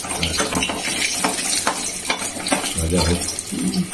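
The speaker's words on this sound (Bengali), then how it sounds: "ভালো করে ভাজতে হবে, ভিতরে আমাদের কাঁচা হয়ে যাবে।" Lentil bori fry in hot oil with a busy crackling sizzle, while a utensil taps and scrapes the pan several times, close and fairly loud.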